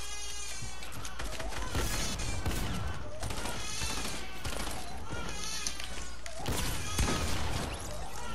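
Rapid gunfire in a building shooter video game, loud dense shots ripping through player-built structures almost continuously, with excited voices talking over the shooting.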